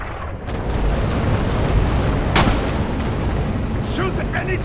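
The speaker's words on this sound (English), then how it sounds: "Enemy fire! Enemy fire!" Heavy enemy gunfire and artillery rumble in the Stalingrad battle game Red Orchestra 2, a dense, loud, continuous roar of shots and blasts with one sharper crack midway and further pops near the end.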